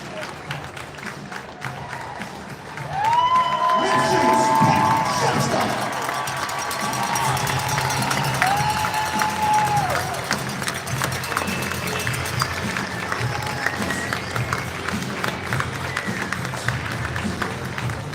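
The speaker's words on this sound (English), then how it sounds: "one more round of applause for our inaugural Ring of Honor class" A crowd at a hockey game in an arena roars with cheering and sustained applause that swells suddenly and holds loud and dense, with whistles and shouts riding over it to the end.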